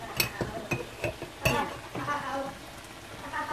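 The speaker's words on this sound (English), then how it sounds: "Then you keep on stirring it up, and then all of them will mix" A spoon scrapes and taps through bolognese sauce in a pan, several sharp clinks early on, then a softer sizzling stir, close and moderately quiet with little talk.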